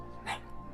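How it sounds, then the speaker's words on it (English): A dog gives one short, faint bark in the background over a low steady hum. "If you guys hear barking, that's my dog in the background."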